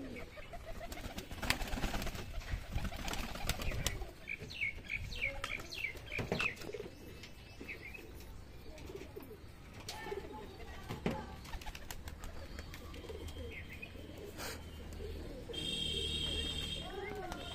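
Pigeons kept at a home loft in Bengal, including Shajahanpuri, Fulsira and Beldanga breeds. Close, soft rolling coos repeat throughout, mixed with chirps and brief wing flaps over steady background noise, and someone talks quietly at times.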